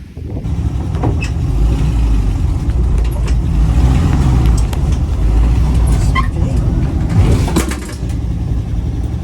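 A car drives on a test run after a rear brake replacement, its engine and road noise a steady, fairly loud rumble throughout, rising and easing slightly as it moves, with no one talking.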